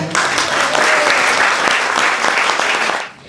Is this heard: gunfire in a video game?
no